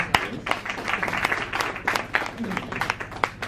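Audience applause at an election-eve thank-you gathering in Markham, a crowd clapping in uneven bursts with scattered sharp claps standing out, mixed with a voice talking over it.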